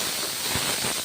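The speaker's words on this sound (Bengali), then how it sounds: "পেঁয়াজ ভেজে নিলাম, টমেটো ভেজে নিচ্ছি" Onions and tomatoes fry in a pan for a spicy mourala fish curry, producing a loud, continuous close-up hiss of sizzling oil with no voices.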